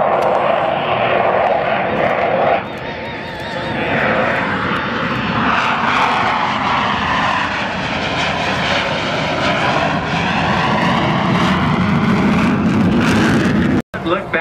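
Loud, continuous roar of Thunderbirds jets flying low and slow in formation at an air show over McConnell, a sustained engine drone with shifting pitch, with an announcer talking over it throughout.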